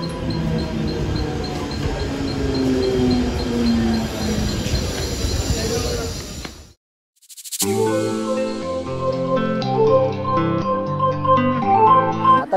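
Mumbai local train running from Kanjur to Dadar, a loud continuous rumble of wheels with squealing rail screech, a brief silent gap midway, then rattling carriage noise and tonal clanks continuing close by without speech.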